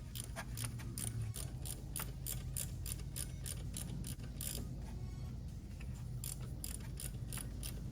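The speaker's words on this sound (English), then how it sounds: "we're going to use reverse Torx so we can get it out with that" A hand ratchet turns a reverse Torx socket to back out a stud during alternator replacement on a 2013 Cadillac XTS. It makes rapid, repeated close clicking in a steady rhythm throughout, with no voices.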